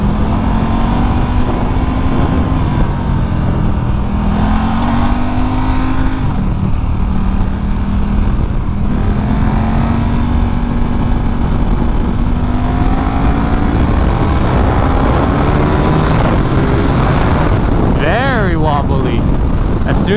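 A KTM RC8 R sport motorcycle is ridden with a loud, steady engine drone whose pitch wavers through shifts, under heavy wind buffeting, while a rider talks over it.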